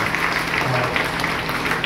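An audience in Bikaner applauds to honour a person being recognised at a public event, a dense, steady wash of many hands clapping that fills the hall for the whole stretch, with no voice over it.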